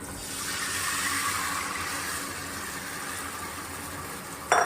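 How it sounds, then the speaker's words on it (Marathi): Turmeric stirred into hot oil in a pan sends up a steady, moderate sizzle that holds evenly, ending in a brief louder clatter, with no voices. "हळद तेलामध्ये थोडी मिक्स करून घ्या"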